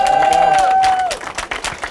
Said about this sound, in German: Und das ist dein Applaus hier, den hören wir jetzt gleich nochmal.